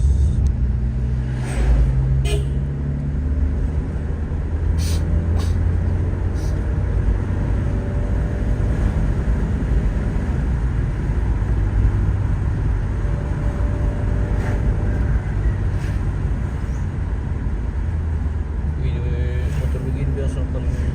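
A motorbike engine runs at a steady, continuous low rumble for the whole stretch, with a person talking over it.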